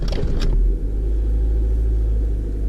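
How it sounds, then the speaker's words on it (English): A car engine started after an oil change settles into a steady low idle rumble, with a brief higher starter whir at the very beginning. "and start the car."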